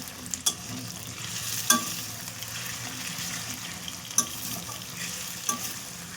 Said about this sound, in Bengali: এগুলো একটু ভাজা ভাজা হয়ে এসেছে, আর একটুখানি ভাজা এগুলিকে